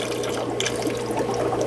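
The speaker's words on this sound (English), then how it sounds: "Once the water starts flowing," Steady rushing and gurgling of water siphoning through aquarium tubing, continuous and close, with no voices.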